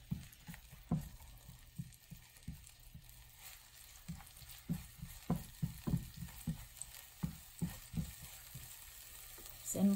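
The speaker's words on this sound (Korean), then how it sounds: "이제 기름 향이 나면서 볶아지기 시작합니다." Squid kimchi fried rice frying in oil, a steady soft sizzle broken by repeated light knocks and scrapes of stirring throughout, close and moderately quiet.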